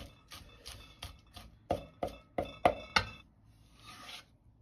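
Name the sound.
knife chopping scallion greens on a cutting board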